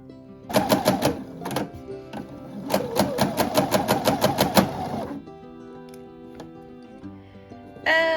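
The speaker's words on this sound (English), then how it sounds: "So I'm gonna go back and sew another line just to have a bit more even gathers." A sewing machine runs a line of gathering stitches on a Smart Doll dress in short bursts of rapid, close mechanical clatter, with pauses between runs and a soft rustle at the end.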